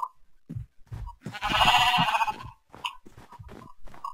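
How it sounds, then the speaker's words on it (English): Sheep bleat in a Minecraft game, several wavering calls near the start and end around a louder burst of noise in the middle, fairly faint overall. "I heard sheep. And I see sheep."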